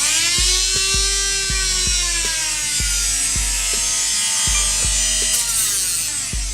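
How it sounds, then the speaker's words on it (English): A Dremel rotary tool sands down the cut edges of a part for a Savoy-6 paintball pod, giving a steady close high-pitched whine broken by regular rhythmic grinding pulses about twice a second, with no talking. "you can just use a Dremel to sand it down"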